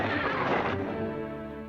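A horse that has slipped in the mud gives one loud, close whinny that fades out over a couple of seconds, with no talking over it.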